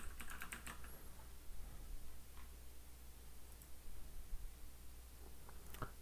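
A computer keyboard clicks through a quick burst of keystrokes followed by a few scattered taps, faint and close in a quiet room, with no talk.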